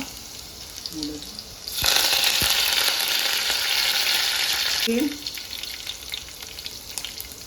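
Curry leaves hit hot oil with cumin for masoor dal khichdi, bursting into a loud, sudden sizzle that holds steady for about three seconds before cutting back to a quieter background hiss.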